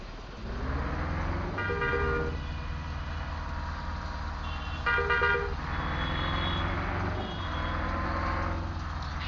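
A bus rumbling through traffic in Bus Simulator Indonesia on the Surabaya to Bangkalan route, a steady engine drone with several horn toots sounding over it, and no speech.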